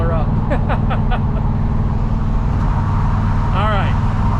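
Steady low engine drone of a 1979 Chevrolet El Camino under way, with a constant rumble throughout and occasional whistling or chirping sounds on top; no speech in the clip.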